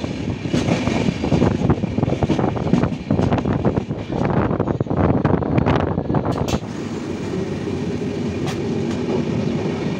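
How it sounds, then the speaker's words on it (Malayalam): Wind rushes past a moving train on the Tirur to Bangalore route, a loud, steady roar mixed with rumbling wheels and rattling, easing to a lower, smoother drone partway through. "നല്ല തണുത്ത കാറ്റ്"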